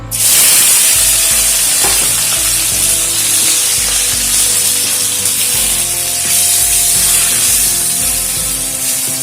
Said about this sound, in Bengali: কড়াইতে আবারও একটু সাদা তেল দিয়ে দিয়েছি এবারে ম্যারিনেট করা মাংসটা আমি ভেজে নেব